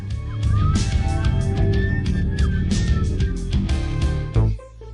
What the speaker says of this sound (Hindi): पुलिस की गाड़ी अपना सायरन सक्रिय करती है।